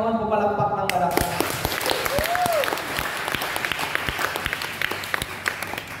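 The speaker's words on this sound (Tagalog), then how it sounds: "pumalakpak ng malakas" Congregation at a church service clapping loudly, a dense roll of many hands with sharp individual claps standing out, heard alongside a fading voice and tone at the start.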